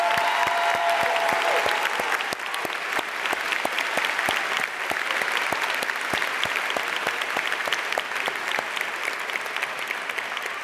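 A commencement audience applauds its teachers at a high school graduation: dense, sustained clapping from a large crowd fills the hall, steady and loud throughout with brief scattered cheers early on.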